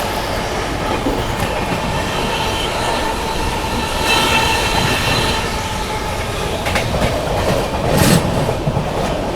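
The Howrah Rajdhani Express rushes through Mirzapur station at high speed, heard from on board a First AC coach: a loud, continuous rumble of wheels with rhythmic clacking, a few sharp squeals and bursts of passing noise, and no talking.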